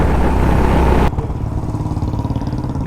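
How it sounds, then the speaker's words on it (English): Honda CB350RS motorcycle on a night ride, a loud steady exhaust drone that cuts to a lower, throbbing engine rumble partway through, close and without voices. "Now you can hear the sound, how good the sound is of this exhaust."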